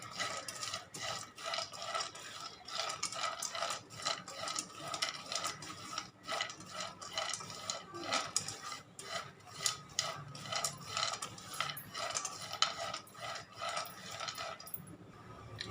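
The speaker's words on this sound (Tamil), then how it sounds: "இந்த சீடெல்லாம் சேர்த்து வறுத்து எடுத்துக்கலாம்." Seeds dry-roasted in a pan for a sweet, stirred with a dry, rhythmic scraping and rattling that repeats steadily at close range, with no voices.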